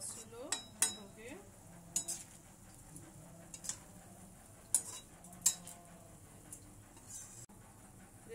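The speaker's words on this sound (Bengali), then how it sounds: "এবার হালকা নাড়াচাড়া করতে হবে বোঁদেগুলো, যাতে বোঁদের ভেতর রসগুলো ঢোকে" Boondi being gently stirred through sugar syrup in a pan for a festival sweet, with a handful of sharp spoon clinks and soft scraping strokes scattered over a quiet background.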